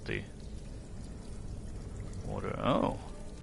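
Flowing water in Skyrim, a steady pour or trickle running under the whole scene, with a louder gurgling burst near the end. A voice is also heard speaking.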